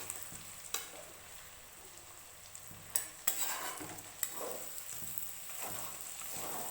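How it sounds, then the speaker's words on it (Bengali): Ground spices fry with chicken pieces in oil in a pan, giving a soft steady sizzle punctuated by occasional sharp scrapes and clinks of the stirring spoon, fairly quiet and close with no voices. "গুঁড়ো মশলাগুলো ভালো করে ভেজে নিতে হবে এই পর্যায়ে।"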